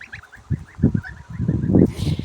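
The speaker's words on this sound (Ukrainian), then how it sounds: "Славні гусенята." A small flock of goslings peeps in rapid, high chirps up close, with soft low honking and rustling beneath, ending in a brief breathy hiss.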